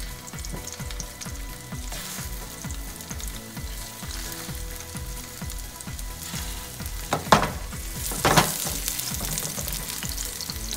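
Halved potatoes sear in a hot pan slicked with oil left from cooking asparagus, giving a steady loud sizzle throughout with a couple of sharper spitting bursts near the end, no voices.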